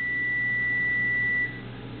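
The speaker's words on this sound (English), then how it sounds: "That's my lousy microwave timer." A microwave oven timer gives one long, steady, high electronic beep that holds for about a second and a half and then cuts off, leaving a low hum in the kitchen.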